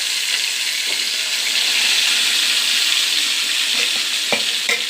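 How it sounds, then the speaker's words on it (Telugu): Pieces of fish fry in hot oil with a dense, steady sizzle close by, and a few faint clatters of stirring or utensils cut through near the end. "ఇప్పుడైతే చూసారా చేపలు అయితే ఎలా ఫ్రై అవుతున్నాయో"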